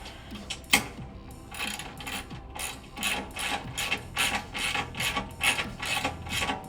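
A ratcheting tool tightens the rear of an engine skid plate from Primitive Racing, giving repeated quick clicking bursts in a steady rhythm, close and fairly loud, with no speech.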